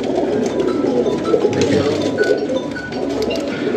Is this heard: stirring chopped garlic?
no